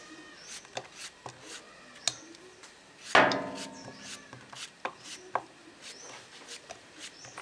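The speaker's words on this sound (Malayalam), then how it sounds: "ഇനി നമുക്കിത് അരിഞ്ഞ് ചേർക്കാം കേട്ടോ." A knife chops peeled jackfruit pieces on a board for a traditional jackfruit aviyal, with scattered sharp taps and one louder, ringing knock partway through, close and without talk.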